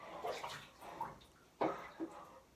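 Water poured out of a cup during an ice bath challenge: a few short splashing gurgles in quick bursts, close and fairly faint, with no talk over them.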